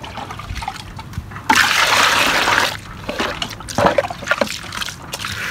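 Water gushes for about a second while a golden retriever is washed, a loud splashing rush amid quieter trickling and background noise.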